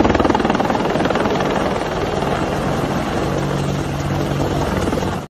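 A white toy helicopter makes a steady, loud whirring rotor drone that holds evenly before cutting off abruptly at the end.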